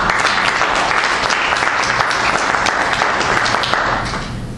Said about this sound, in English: We can give ourselves a round of applause for them.